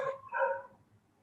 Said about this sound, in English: If let's say you pick up the barking sound.